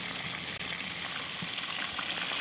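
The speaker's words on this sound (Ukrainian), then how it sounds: "Все шкварчить" Dense, steady sizzling and crackling of potatoes frying in hot oil in a cauldron fills the clip, close and continuous with no voices.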